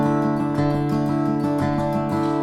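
Acoustic guitar cross-picked and strummed in a flowing 6/8 feel, steady rhythmic attacks ringing out clearly and close, with no voices over it.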